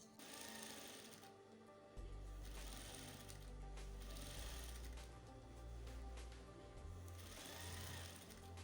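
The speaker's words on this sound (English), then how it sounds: "I'm going to be running the first stitch along the seam line" A sewing machine stitches rows of shirring along a seam line on fabric for a smocked tube top, a fast mechanical rattling hum in steady bursts, quiet and close, with brief pauses between runs.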